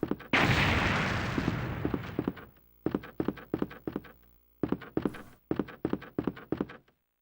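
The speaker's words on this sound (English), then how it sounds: "Explosions." Explosions in the PlayStation game Resident Evil 2 on original hardware: a long roaring blast followed by a rapid series of sharp booming bursts in clustered volleys, loud and close, with no talking.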